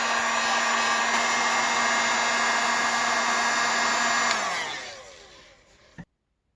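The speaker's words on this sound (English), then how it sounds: "So what you do after this is you use your heat gun to expand those lines." A heat gun blows a loud, steady hot-air roar close by while expanding wood grain lines cut into EVA foam, then switches off and winds down before a small click and silence.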